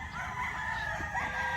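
A rooster crows among newly arrived chickens on a farm, its call carrying steadily over constant background noise, with no talking.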